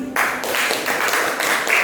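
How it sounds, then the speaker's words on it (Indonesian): A crowd claps in a steady, dense patter of applause for a couple of seconds. "Tepuk tangan."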